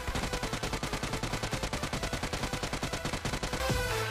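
A UMP submachine gun in PUBG Mobile firing a long, evenly spaced automatic burst of crisp shots, close and steady, ending with a brief mechanical clack.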